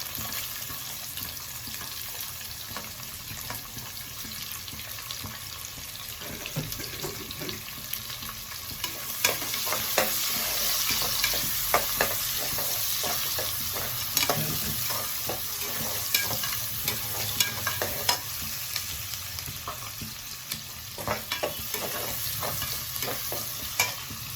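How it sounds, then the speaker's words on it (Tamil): Onions sautéing in a pan with curry leaves while being stirred, giving a steady close sizzle and frying hiss that runs throughout, with irregular scraping stir clicks and a few water-like splashes, and no talking. "வெங்காயம் நல்லா வதங்கிட்டு"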